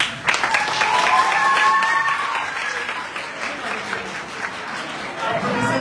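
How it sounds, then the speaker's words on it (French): An audience applauds loudly at a debate on reform of Guinea's electoral system, with a steady wash of clapping and crowd noise that softens slightly toward the end. "Applaudissez très fort parce que le débat est vraiment très dur"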